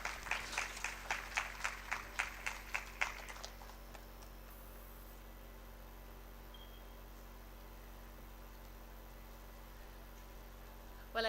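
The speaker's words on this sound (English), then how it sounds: "And another round of applause, please." Audience clapping at a Sahel food systems conference in Nigeria, a burst of about a dozen sharp, fairly even claps over the first three seconds, then fading into quiet room noise.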